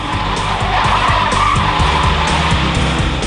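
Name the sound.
Honda FR-V braking hard, tyres skidding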